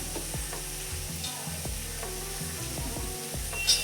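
Coconut is dry-roasted in a pan, giving a continuous light sizzle with scraping strokes from the stirring spoon. Close and moderately loud, with no one speaking.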